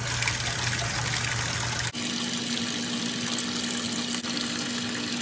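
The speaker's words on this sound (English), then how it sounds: "put them underneath like cold water in the sink" Cold tap water runs steadily into a sink over freshly dyed tie-dye socks, a continuous close hiss and trickle with a couple of brief breaks and no talking.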